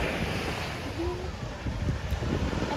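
Surf rolls onto a beach in La Union with a continuous low wash of waves. Heavy wind buffets the microphone, and the sound stays close and steady throughout.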